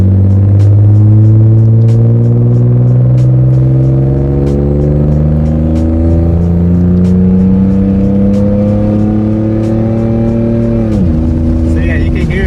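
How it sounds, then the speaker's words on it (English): A 1999 Nissan Skyline GT with a Tomei catback exhaust drones steadily from inside the cabin with windows partly down, its deep exhaust note rising through the gears and dropping as it shifts, loud and continuous. "let me put the windows down a little bit too, so you guys can hear some of the exhaust sound, the Tomei exhaust."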